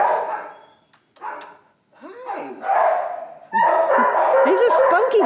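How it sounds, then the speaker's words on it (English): A small elderly shelter dog at a county adoption event gives a few short, close barks and yips in bursts, mixed with people talking nearby. "That's a very good dog."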